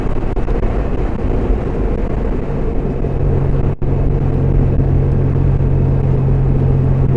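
Steady low engine rumble and road noise from a pickup truck driving on the road, continuous and close with one brief dropout midway, no voices.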